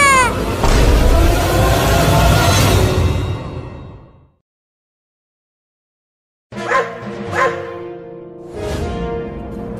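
Dogs bark in a loud close flurry, then after a silent gap a few more sharp barks and yips sound out, in an animated cartoon setting.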